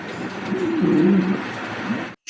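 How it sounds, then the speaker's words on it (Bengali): Low, rolling coos from a pair of large Maltese pigeons swell and fade over about two seconds, close and fairly loud against a steady background hiss. "দেখতে পাচ্ছেন এখানে একজোড়া বিগ সাইজের মাল্টেস কবুতর"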